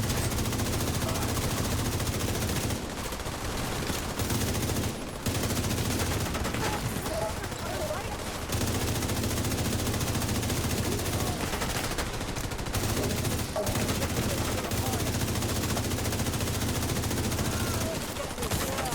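Rapid automatic gunfire in a shooter video game rattles in long continuous bursts broken by short pauses, loud and close, with scattered heavier shots and some voice mixed underneath.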